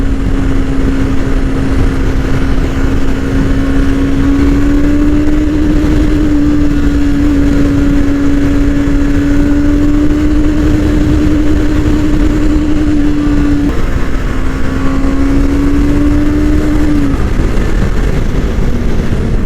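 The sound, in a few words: motorcycle engine redlining in third gear at high speed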